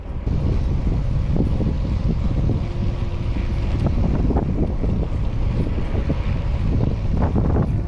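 Strong wind buffeting the microphone, a constant low roar with gusty rumbles throughout and no voices.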